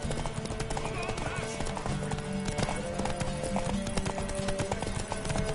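Rapid horse hoofbeats in The Witcher 3 video game clatter steadily in a galloping rhythm, close and loud, with other game sounds layered underneath.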